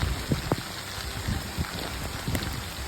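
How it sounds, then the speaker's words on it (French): A rain shower arrives during a walk across the Monges in France, scattered raindrops pattering and tapping irregularly on a nearby surface over a steady hiss, loud and close, with no talk. "Et l'averse arrive."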